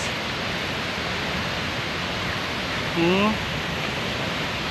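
Seven Falls waterfall at Lake Sebu, South Cotabato, makes a steady, even rushing roar that fills the whole clip, broken only by a brief voice midway.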